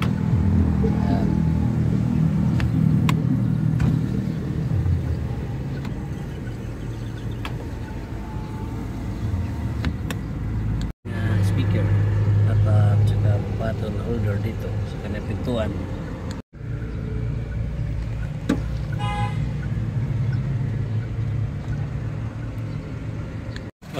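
A Suzuki Wagon R's gas engine idles as a steady low rumble throughout, with someone talking over it and a couple of brief dropouts.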